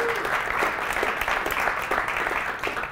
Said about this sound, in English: That actually deserves a round of applause.